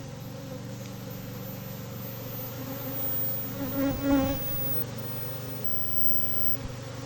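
A swarm of honeybees buzzes in a steady, fairly quiet drone, with a few louder buzzes from bees passing near around the middle, no talk.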